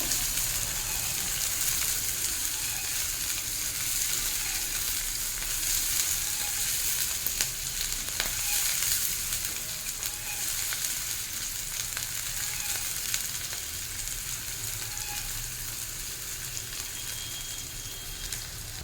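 Chopped onions and four ripe chillies frying in oil in a pan, a dense, even sizzle like steady rain that holds for nearly twenty seconds with an occasional faint stir, close and free of speech.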